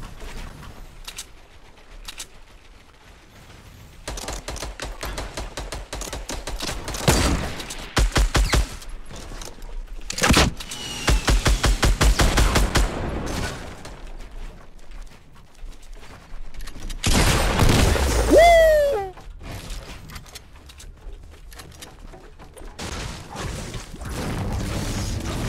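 Rapid bursts of gunfire in a shooter video game, some long sustained volleys and shorter clusters of shots, loud and close, with mechanical clicks and a whoosh between them.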